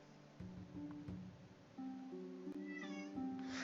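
A pet cat meows near the microphone, several short tonal cries in a row with a rising, drawn-out call at the end over a faint background hum.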